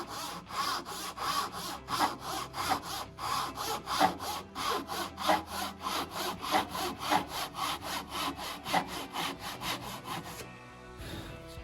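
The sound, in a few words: handsaw cutting wood for a pedalboard joint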